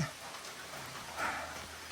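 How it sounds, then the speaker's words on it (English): Steady rain falls outdoors at a shelter along the Appalachian Trail, a soft even patter with a few louder drops near the middle. "It's raining."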